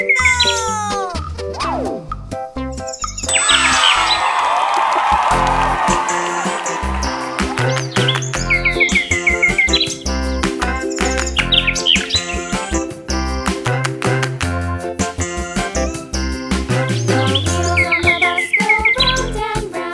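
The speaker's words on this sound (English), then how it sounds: "Bird of paradise." A bird of paradise calls loudly and continuously in the Asian jungle, with a rapid series of shrill whistles, chirps and descending squawks repeating in bursts, near and prominent throughout.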